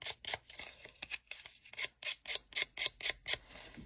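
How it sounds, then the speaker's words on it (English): Quick, rhythmic scraping strokes of scissor blades rasping along paper edges, close and fairly quiet, repeated over a dozen times. "you just take your scissors and you just distress this a little bit"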